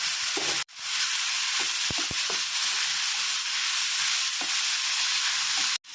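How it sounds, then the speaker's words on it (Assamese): Brinjal pieces frying with potato, turmeric and salt in hot oil, a steady loud broadband sizzle and hiss with a few faint stirring knocks close to the pan. "বেঙেনাখিনি অলপ ভাজি ল'লোঁ।"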